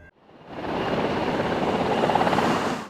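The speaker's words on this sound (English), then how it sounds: "As military helicopters shower USS Bonhomme Richard with more than 415 water drops trying to extinguish the flames." Military helicopters drop water on the burning USS Bonhomme Richard, a loud, steady rotor-and-engine roar that swells in after a brief pause and holds dense and close.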